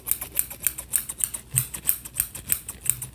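Rapid, regular snipping clicks, about a dozen crisp cuts in steady rhythm, close and fairly quiet with no talking.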